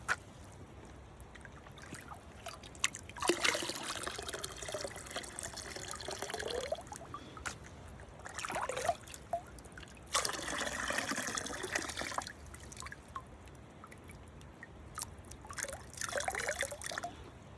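Water splashes and trickles in two long pours while material is washed out outdoors during a treasure-hunting search, close and moderately loud, with gentle dribbling and drips between the pours.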